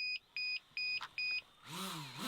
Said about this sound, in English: are you gonna beep the whole time?